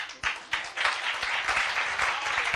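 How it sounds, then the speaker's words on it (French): A church congregation breaks into sustained applause, dense and continuous clapping filling the room from start to end. "Applaudissez ça."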